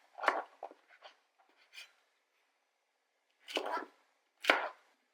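Knife chops soaked beans on a cutting board: a few sharp strokes at first, a pause, then two more firm chops close by, with no talking.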